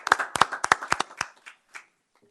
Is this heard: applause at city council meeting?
yes